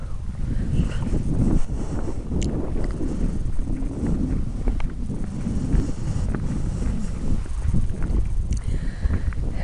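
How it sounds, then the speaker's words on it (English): A horse's hooves clop along a walking trail on the Coleridge Way in April, an irregular run of soft thuds heard close by under heavy, continuous wind buffeting on the microphone. "someone on horse coming"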